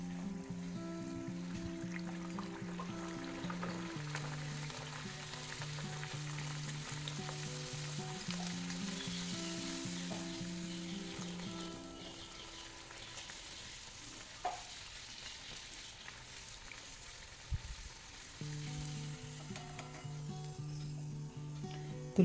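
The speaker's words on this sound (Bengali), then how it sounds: "তো এবারে তেল গরম করে নিয়েছি, সাদা তেল। এবারে লুচিগুলো ভেজে নেব।" Luchi fry in hot white cooking oil, a dense, continuous sizzle with stirring, close and steady, with soft tonal music underneath.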